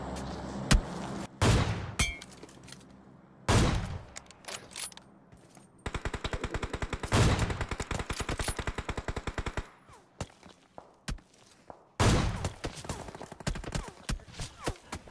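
PUBG Mobile gunfire: loud single shots and bursts, with one long rapid automatic volley in the middle, the shots spaced by short gaps and standing alone without talk.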